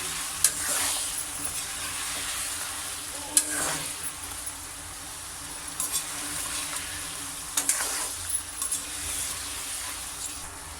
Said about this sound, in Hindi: अब हम इसमें अदरक लहसुन का पेस्ट शामिल कर लेंगे और इसको अच्छी तरह भून लेंगे।